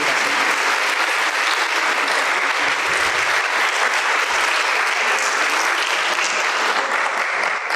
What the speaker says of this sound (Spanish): Despedimos con otro fuerte aplauso a la maestra.